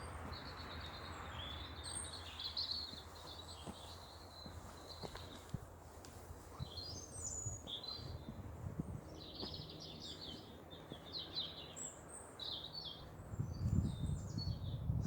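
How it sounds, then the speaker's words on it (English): Faint birds chirp and trill in short bursts over quiet outdoor ambience, with occasional soft footsteps and rustling underneath. "Not sure if you can hear those birds singing."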